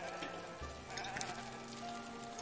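Sheep bleat at a sheepfold in the video game Foundation, a faint bleating mixed into soft, steady ambient rain-like noise, with no talking.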